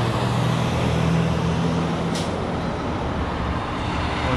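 A truck rolling off a ferry and passing by, a broad steady roar of engine and tire noise with a low droning tone that fades partway through, under continuous road rumble, no speech.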